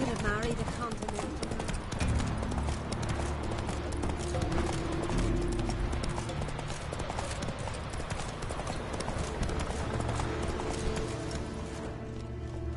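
Geralt's horse Roach gallops in The Witcher 3: Wild Hunt, with rapid, loud hoofbeats in a steady rhythm under a dense mix of game music and voices.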